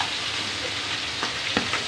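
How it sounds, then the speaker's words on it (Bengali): Pabda fish frying in hot oil, a dense, close, continuous sizzle and crackle with a few sharper spits popping out near the end. "আর এই যে মাছ ভাজতেছে"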